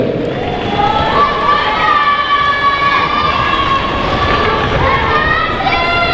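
An audience at a Tahitian dance competition's solo elimination round claps and cheers for the contestants, with dense, loud applause, whoops and whistles throughout while an announcer talks over it.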